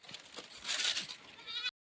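A goat bleats repeatedly in a wavering, nasal cry on a farm where cows and goats are kept, loud and close, the calls running together for under two seconds before stopping abruptly.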